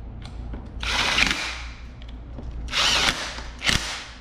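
A power tool drives screws on a racing two-stroke engine being rebuilt, sounding as two loud, close whirring bursts with a short pause between them and a brief extra burst at the end.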